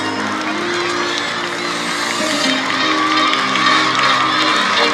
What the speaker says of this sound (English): Keep cheering for your house.